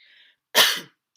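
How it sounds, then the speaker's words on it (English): A single sharp cough bursts out after a brief faint tone, then silence. "I feel a cough coming."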